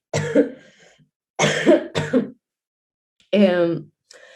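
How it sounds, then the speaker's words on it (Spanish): Several harsh coughs close up from a speaker during a panel discussion, in two clusters with a pause between, followed by a short voiced sound. "perdón, que tengo tos"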